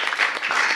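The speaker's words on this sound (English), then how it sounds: "I want to ask you to join me in a round of applause for our dear brother" A birthday party audience claps for Balroop at his 70th celebration, a short dense burst of applause from a crowd heard up close.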